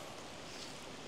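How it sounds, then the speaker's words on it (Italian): Strong outdoor wind gusting at a crime-scene site, a dense rushing roar buffeting the microphone across the whole short moment, with no voices. "C'è molto vento"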